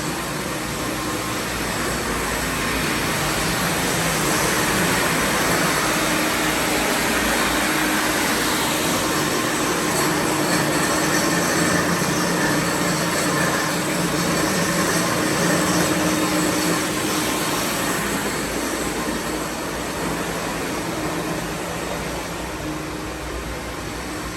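A floor grinder roars steadily as it strips an old epoxy coating from a concrete floor indoors, a loud, unbroken abrasive drone with a low rumble beneath that holds for the whole stretch.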